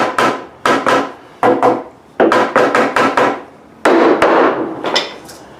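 A hammer taps wood while a deer-hunting box blind is built, a loud, close series of sharp knocks in uneven bursts with ringing decay between strikes.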